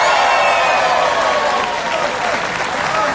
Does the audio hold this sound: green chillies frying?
no